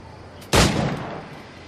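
A single pistol shot in Assassin's Creed IV: Black Flag fires with a sharp, loud crack, then a reverberant tail that decays over about a second against quiet in-game ambience.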